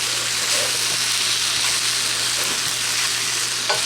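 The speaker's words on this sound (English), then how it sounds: "Now, as this is stir-frying in here" Leftover rice stir-fries in a hot pan, giving a loud, continuous sizzle and crackle close up, with the soft scrape of stirring and no one speaking.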